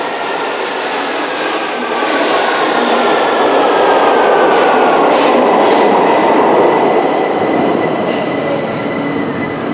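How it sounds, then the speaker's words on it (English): A London Underground train rumbles and roars through a tunnel at Euston, wheels squealing faintly, the noise swelling to a peak midway and then easing off. "it's being pushed by a train from the northbound track there"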